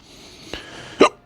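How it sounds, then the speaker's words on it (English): A hiccup from a character in the Broken Sword video game: a faint catch, then one sharp, loud hiccup near the end, heard alone without talk. "I've got the hiccups, I do apologise."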